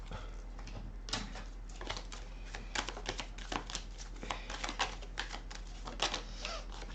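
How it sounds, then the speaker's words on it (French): Tarot cards shuffled and drawn by hand, a quick run of crisp papery flicks and riffles in uneven bursts, close and fairly quiet, with no talking. "je vais prendre quelques cartes du tarot"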